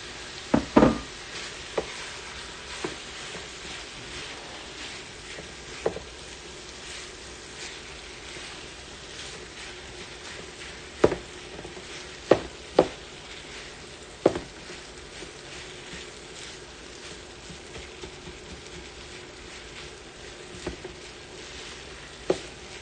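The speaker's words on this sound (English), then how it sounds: "we're going to add our diced potatoes into our mix" Diced potatoes frying in a pan for a breakfast ravioli filling, a soft steady sizzle with occasional sharp clicks and stirring taps, close and fairly quiet.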